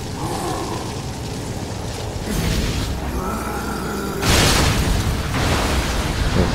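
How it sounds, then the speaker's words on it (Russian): Demons explode in the game Darksiders: Wrath of War, heavy booming bursts with rumbling roars, loud and dense, several hits swelling across the stretch with no speech over them. "Взрывающиеся демоны."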